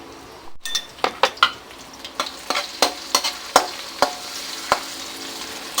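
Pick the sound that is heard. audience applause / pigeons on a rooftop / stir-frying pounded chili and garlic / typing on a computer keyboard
stir-frying pounded chili and garlic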